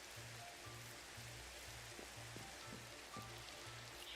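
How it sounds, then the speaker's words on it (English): Rain falls in the Minecraft video game as a faint, even patter and hiss, with a low rhythmic hum pulsing softly underneath it. "the rain is such a vibe right now"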